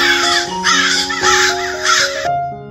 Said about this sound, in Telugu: మళ్ళీ కొంతసేపటికి కాకి పిల్లలు అరవసాగాయి